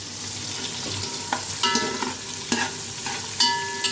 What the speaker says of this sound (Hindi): देखिए प्याज को भून भान के गोल्डन ब्राउन करके मैंने डाल दिए चावल, और डाल दिया इसमें नमक